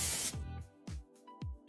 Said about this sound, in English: Now spray your mold with nonstick spray.